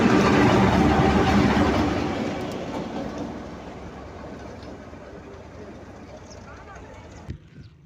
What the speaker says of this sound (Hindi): GMCU-15 4906 अटैच होने के लिए एक साइड से दूसरी साइड पे जा रहा है।